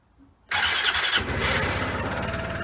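Vespa scooter engine after a battery swap, starting abruptly after a faint lead-in, catching with a sharp burst and settling straight into a loud, steady idle close by.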